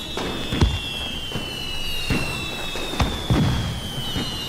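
Fireworks explode in a repeated run of sharp bangs and crackles spaced about a second apart, with a steady high whine trailing above the bursts.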